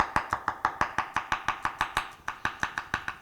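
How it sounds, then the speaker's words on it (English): A knife slices garlic on a cutting board in a steady run of about twenty crisp, evenly spaced taps, close and clear with no talking. "let's cut up a little bit of garlic. Now, I like the slices"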